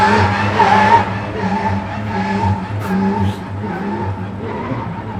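A Cosmo Racing Mitsubishi Evo race car on a time attack track at Drivecenter Arena, its engine droning steadily with a tonal hum while tires squeal and skid, fairly loud and continuous with a brief louder swell near the start.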